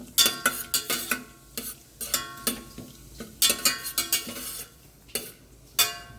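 Cloves, cinnamon and other whole spices fry in oil inside a pressure cooker, stirred with a utensil that gives sharp irregular scrapes and knocks against the metal over a soft sizzle.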